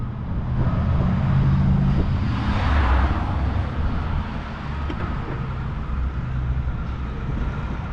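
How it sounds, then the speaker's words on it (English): An airplane climbs overhead after taking off from a nearby airport on Long Island. A broad, steady roar swells and then slowly fades over a low traffic rumble. "all the planes take off from the airport over here"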